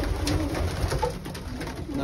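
Racing pigeons coo steadily inside their loft, a soft continuous burble of several birds close by with faint rustling and no speech.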